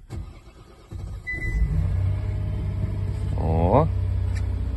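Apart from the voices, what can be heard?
KIA Telluride engine starting at minus 23 degrees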